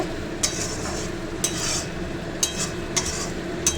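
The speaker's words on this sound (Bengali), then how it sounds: "কষা হয়ে গেছে মাছের মশলাটা।" Fish spice paste is stir-fried in oil while cooking a Bhola fish curry, a low steady sizzle punctuated by five sharp scrapes of a spatula against the pan at irregular intervals.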